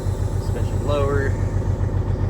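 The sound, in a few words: Cadillac truck engine running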